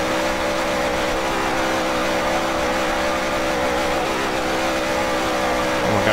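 Race car engine roaring steadily in a NASCAR Heat 3 dirt series race, a dense continuous drone that stays loud and unbroken throughout, with no speech.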